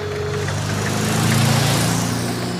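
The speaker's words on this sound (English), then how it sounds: "suddenly a magnificent motor car drives past" A magnificent motor car drives past on a country road, its engine droning and rising slightly in pitch as it passes close by, loud and steady, with no talking.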